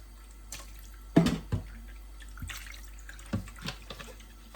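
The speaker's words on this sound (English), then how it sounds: "And I am going to pour my vinegar" Liquid splashes and trickles in short, irregular bursts, close by, with small drips and sloshing against a quiet background.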